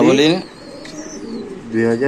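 Domestic pigeons coo in short, close, throaty bursts at the start and end, with a brief quieter gap between, at a pigeon seller's in Bangladesh.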